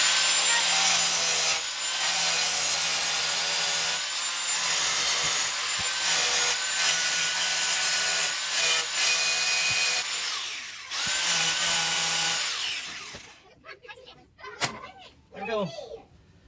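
A loud, sustained power-tool grinding on a damaged metal part of a Pit Boss FB700 pellet grill runs for about twelve seconds with brief pauses, then stops, leaving quieter handling clatter.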